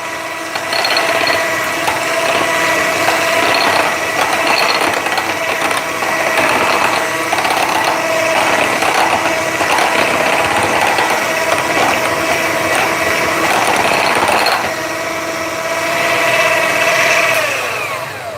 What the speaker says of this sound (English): how long it takes me to mix it with a hand mixer